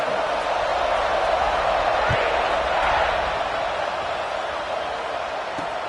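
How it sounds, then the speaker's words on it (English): Crowd noise in a college football video game, a steady stadium roar with a broad hum that continues evenly, with occasional thumps and a commentator-style voice faintly underneath. "this crowd is buzzing after that last score"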